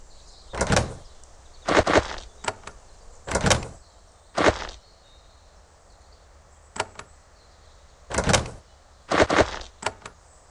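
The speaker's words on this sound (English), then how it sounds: "The plant detects motion nearby and lifts and lowers the door accordingly." A stone door in the Geneforge game, lifted and lowered by a plant, grinding open and shut in a series of short, loud scraping bursts. The bursts come in uneven clusters over about ten seconds, with quiet room tone between them.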